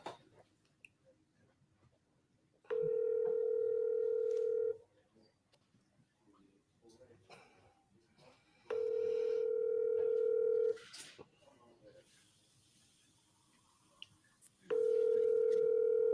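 Telephone tones during a sales dialing contest, three long steady two-second beeps separated by quiet gaps with faint handling noises between them.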